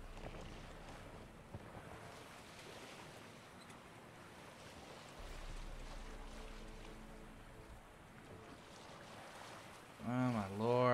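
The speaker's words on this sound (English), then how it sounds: "I still don't know how this sails so well with so many holes in its sail." Sailing ship gliding across open sea in The Witcher 3, its sail full of holes: a steady wash of waves and wind noise runs throughout, with a louder burst near the end.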